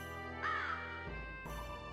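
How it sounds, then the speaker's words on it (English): Crows caw from the PlayStation 1 game Legend of Dragoon, a couple of harsh calls standing out over steady game music and ambience. "They actually have the crows."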